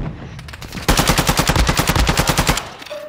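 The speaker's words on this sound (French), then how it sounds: "Il est braque, il me tire dessus." An enemy's automatic weapon fires in Call of Duty on Ashika Island. A few loose shots lead into a loud, rapid, steady burst lasting under two seconds, then quiet.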